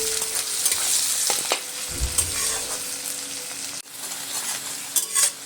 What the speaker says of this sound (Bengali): পেঁয়াজটা আমি খুব ভালো করে ভেজে নেব